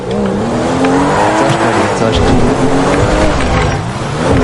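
A speeding car in the GTA 5 video game revs loudly, and its tires squeal and skid continuously. Someone talks over the engine noise.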